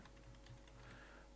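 Computer keyboard keys being typed while writing jQuery code, a quiet run of soft, uneven clicks close to the microphone with no talking.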